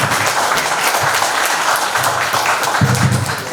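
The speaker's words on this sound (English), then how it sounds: "Please give him a big round of applause." Loud, close applause from a crowd at a company plaque ceremony and family day, a continuous wash of clapping with bursts of low rumble underneath.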